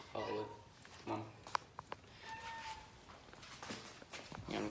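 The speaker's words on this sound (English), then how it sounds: "this cat has been meowing for absolutely forever" A cat meows repeatedly in short, faint calls spread across the moment, with a person speaking quietly in between and a few light knocks.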